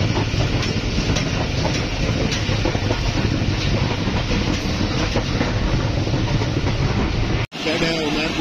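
The Mohenjo Daro Passenger train runs on new track through interior Sindh, a loud, steady roar of wheels and carriages with faint clickety-clack, recorded close from aboard, then briefly cut near the end.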